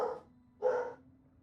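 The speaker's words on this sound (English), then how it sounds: "I'll check and see who my dog's barking at." A single dog gives two short barks about half a second apart, moderately close in a quiet indoor room, with no talking.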